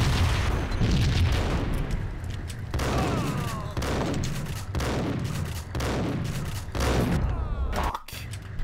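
Rapid bursts of gunfire and heavy booming shots from the Max Payne video game, loud and repeated in clustered volleys with short gaps between them, filling the whole stretch without talk.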